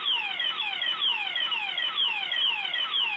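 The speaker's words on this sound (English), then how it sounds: "we can always do the alarm" House alarm sounding loud and steady, a repeating descending electronic whoop cycling about twice a second for the whole stretch, with no voices.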